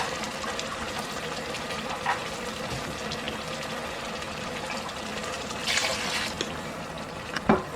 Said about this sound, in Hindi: अब हम इसमें पानी डाल देंगे तकरीबन 2 कप